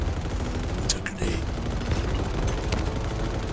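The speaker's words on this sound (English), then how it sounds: "It's a grenade." A grenade goes off in the video game Halo Infinite, a sharp blast followed by bursts of gunfire, close and loud amid the game's steady background noise.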